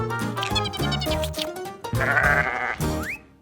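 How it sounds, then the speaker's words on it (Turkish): Several sheep bleat in quick succession, close by on a farm, with overlapping wavering cries and a higher-pitched call near the end. "koyunlar be der."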